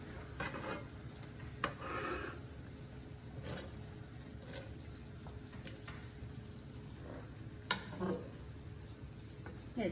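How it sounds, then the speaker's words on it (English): Spaghetti squash puttanesca being stirred in a pot, with soft scraping and faint sizzling, scattered utensil knocks, and a low hum beneath. "It's harder to stir than pasta."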